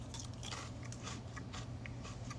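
A matcha cookie from Kyoto with a filling is bitten and crunched close up, with a series of crisp crunches and chewing bursts over a faint steady background hum.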